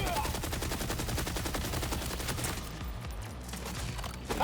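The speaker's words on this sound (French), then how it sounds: "Ah, les grenades de merde quand ils meurent." Dense, continuous gunfire and explosive bursts from Borderlands 4 gameplay, with grenades going off as enemies die, loud and unbroken throughout.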